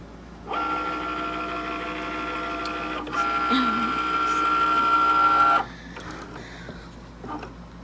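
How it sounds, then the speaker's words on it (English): A Cricut cutting machine draws in a cutting mat and scans it for card-making, giving a steady mechanical whir with tonal motor hum that shifts pitch midway, then stops, leaving quieter machine noise near the end. "Put it in here and press the load button."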